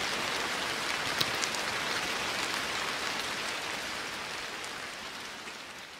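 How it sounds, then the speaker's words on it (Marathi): Rain falls steadily at Sinhagad fort, a dense even patter that fades slightly toward the end with no voices. "धुक्यामधून चालताना अचानक पाऊस पडू लागतो."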